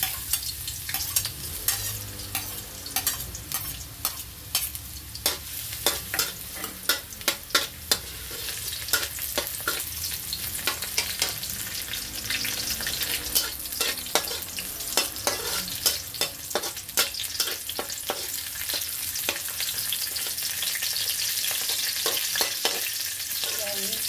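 Garlic sizzling in oil in a wok for pancit lomi, a steady close crackle with frequent sharp stir clicks and scrapes throughout, no voices.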